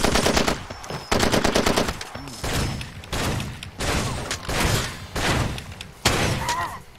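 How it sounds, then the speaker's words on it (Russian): Gunfire in the shooter game Far Cry 2, with loud, dense bursts of automatic fire and heavy shots repeating in clusters over several seconds, close and punchy, with no speech. "Я стреляю, друзья"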